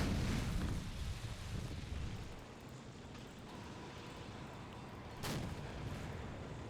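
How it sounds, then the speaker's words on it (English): Missile fire and explosions in a Call of Duty: World War 3 mod battle, heavy low rumbling booms throughout with a sharper burst near the end, dense and continuous. "Still taking a lot of missile fire."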